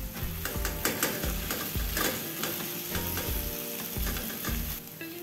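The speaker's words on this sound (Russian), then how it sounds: "Через 5 минут добавляю измельченный чеснок и имбирь. Обжариваю еще 3 минуты." Minced garlic and ginger fry in a pan, a close, continuous sizzle broken by repeated stirring scrapes and clicks of a utensil, with no talk.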